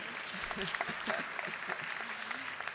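A university ceremony crowd in Charlottesville claps for the weather, scattered hand claps spread through the space and sitting beneath a speaker's amplified voice over a few seconds.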